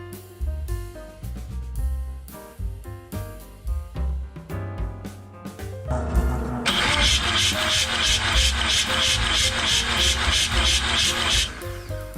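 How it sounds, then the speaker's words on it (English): A starter motor slowly cranks a 1979 rotary 323 engine during a compression test. After a few seconds of quieter mixed noise, a loud, steady, rhythmic churning runs for about five seconds, then stops. "we'll just see how fast this current starter motor is actually turning it over"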